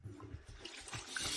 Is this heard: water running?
yes